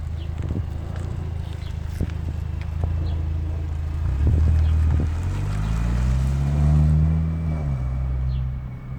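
A Kia Stinger fitted with an axle-back exhaust drives past outdoors, a deep engine rumble and rising then falling exhaust drone over heavy wind buffeting on the microphone.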